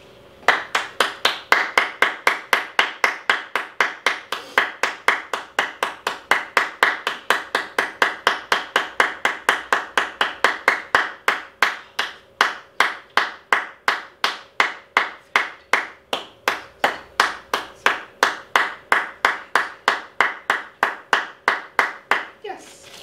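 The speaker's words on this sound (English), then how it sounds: "Down for 20 seconds while I clap my hands." Steady hand claps at a quick even pace, about two per second, continuing for over twenty seconds up close during a relaxation training session with a dog lying down.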